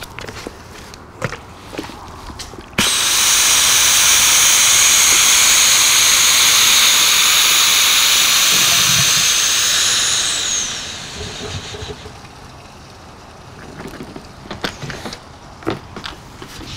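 A cassette toilet empties through a screw-on Americanizer adapter into a sewer hose, making a steady loud rushing gush for several seconds that then tapers off to quieter trickling and handling noises.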